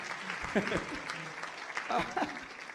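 Brief scattered clapping from a crowd, moderately loud, mixed with a voice speaking over it.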